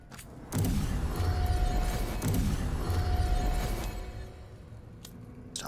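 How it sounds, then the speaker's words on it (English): A dense, rumbling burst of mechanical clanking and whooshing from mass item upgrading in Dragon Age: The Veilguard, with a thin steady tone running through it and sharp clicks at the start and end. "this is the sound of mass upgrading"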